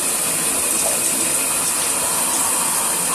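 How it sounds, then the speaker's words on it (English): Water pouring into a bottle being filled about halfway, a steady close rushing gush that holds evenly throughout with no talking. "So I'm going to fill up my bottle about halfway with water."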